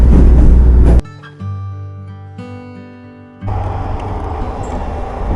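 Inside an air-conditioned train in Romania, a loud low rumble suddenly drops to a quieter interior hum with tonal mechanical whine, then swells back into a rougher steady roar.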